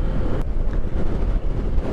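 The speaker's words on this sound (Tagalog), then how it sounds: "lakas ng hangin dito" Strong gusting wind buffets the microphone during a ride through a sudden rainstorm, a loud continuous low roar that swells and dips without a break and has no voices over it.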